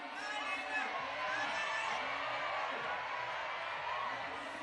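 Spectators at a lead climbing semi-final in Chamonix cheer and shout in a distant, faint, continuous crowd roar, with a commentator talking over it.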